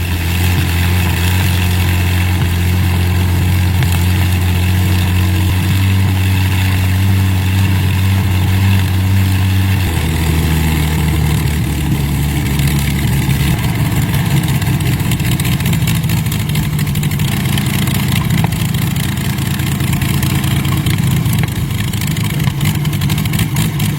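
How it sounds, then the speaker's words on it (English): A large Allison V12 engine rumbles steadily at a low idle, then shifts to a rougher, deeper running note midway, continuous and loud with no voices. "The Allison V12 stirs after decades of silence."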